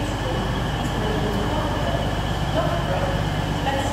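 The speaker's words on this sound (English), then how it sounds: "And also coming in is a terminating East Midlands Railway, so it's from London St Pancras." A terminating East Midlands Railway train from London St Pancras rumbles into Nottingham station, a steady, fairly loud rolling drone with faint squeals over the wheels.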